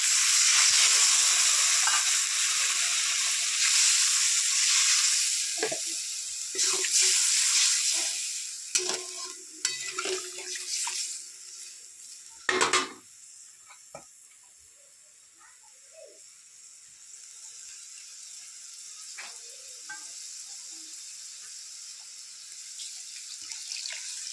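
Water poured into fried spice paste in a pan for a Bengali puti fish jhal curry, starting with a loud hissing sizzle, then sharp spattering bursts and stirring scrapes, fading to a quieter steady simmering fizz.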